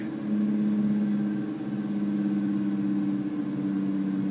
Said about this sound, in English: Engine brake, don't fail me now.